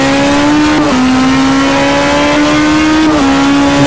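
Loud, steady engine drone of a DTM 2013 race car in the Game Stock Car Extreme racing game at Hockenheim, holding high revs with two quick pitch dips like gear shifts.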